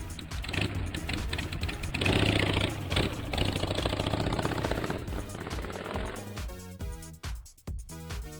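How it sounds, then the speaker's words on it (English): A motorcycle engine runs loud and steady for most of the clip with a dense mechanical rumble, easing off briefly near the end. "Motorcycle."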